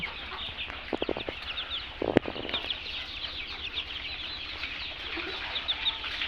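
Chickens on a poultry farm clucking and calling, with short bursts of clucks and a sharp knock amid steady background farm chatter of birds, moderately near and without talk.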